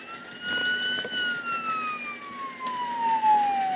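A police car siren wails in the distance with a slowly falling pitch, steady and moderately faint over a low background rumble.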